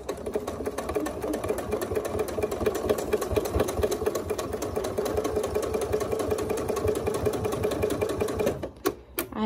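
A sewing machine runs steadily at close range for about eight seconds, stitching the seam of a zipper pouch with a fast, even mechanical whir, then stops abruptly, followed by a few small clicks.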